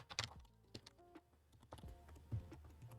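Login details being typed on a computer keyboard, a quick irregular run of sharp clicks and key taps with short pauses between bursts, close and clear, no voices.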